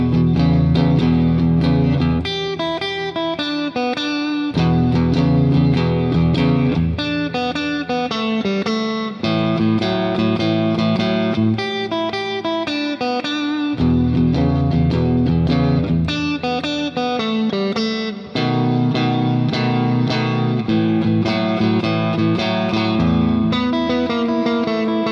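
Distorted electric guitar plays a bluesy phrase with chords and single-note runs, ending each cycle with a turnaround lick; loud, steady, no talking.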